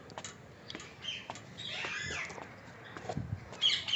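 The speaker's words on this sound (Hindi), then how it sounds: "उनके चहचहाने का शोर भी आपको आ रहा होगा" Parrots chirp faintly in a covered aviary, with scattered short tweets and soft rustling of wings, all fairly distant and low in level.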